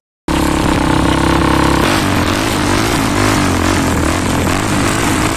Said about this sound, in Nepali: अनि एक्जस्टको साउन्ड जुन चाहिँ छ एकदमै पर्फेक्ट छ होइन